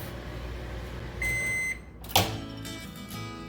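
A microwave oven cooks a mug meal with a steady, low electrical hum, broken by one long, clear beep and then a sharp click or thud like the door opening.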